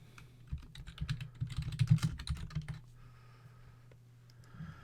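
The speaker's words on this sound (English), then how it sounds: "Sorry for the keyboard sounds." A computer keyboard is typed on in quick bursts of crisp clicking over a low steady hum, busiest early on, then fading to sparse taps and quiet.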